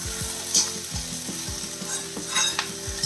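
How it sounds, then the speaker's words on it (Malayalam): Broad beans with a pinch of salt sizzling in a frying pan while a spoon stirs them in quick repeated scrapes, loud and close over a continuous fry, with no voices. "നല്ല രീതിയിലൊന്ന് മിക്സ് ചെയ്ത് വയ്ക്കാം."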